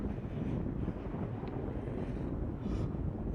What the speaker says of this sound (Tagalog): Parang nililipad ako sa hangin.